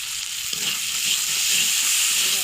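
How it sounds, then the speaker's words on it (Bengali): Ginger-garlic masala with salt sizzles and fries in a pan while being stirred, a steady close hiss with soft scraping movements, no voices. "ভালো করে একটু নাড়াচাড়া করে একটু ভেজে নেব"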